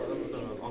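Pigeons at a fancier's loft, including blue birds, coo in a low, steady murmur throughout, close by and moderately loud, with a person talking over them.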